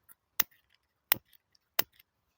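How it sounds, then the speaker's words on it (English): A lighter clicks three times in a quiet woodland wild-camping spot, each click sharp, crisp and separate, spaced well apart with near silence between. "I use one of these. Not a sponsor, but they're Explore lighters."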